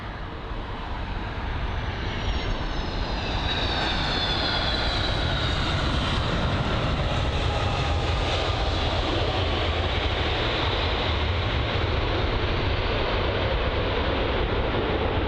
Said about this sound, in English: it's going to be a 757, quite a special jet here at London Heathrow